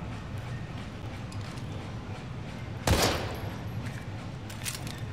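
One sharp gunshot in the video game Daymare: 1998 cracks out over a low rumbling background, followed by a few fainter bursts a moment later.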